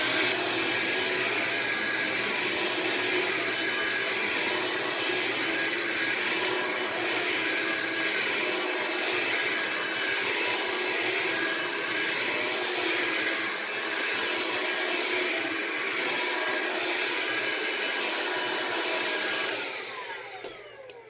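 A Hoover Linx cordless upright vacuum cleaner (BH50010) whirs continuously with a steady high-pitched motor hum for about twenty seconds, then winds down at the end; no talking.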